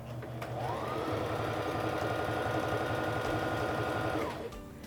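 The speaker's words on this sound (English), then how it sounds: "I'm going to begin sewing by pressing on the foot control." A Singer Fashion Mate 3342 sewing machine stitching through scrap fabric, running at a steady, fast mechanical chatter for several seconds and then winding down. The sound is close and continuous, with no talking.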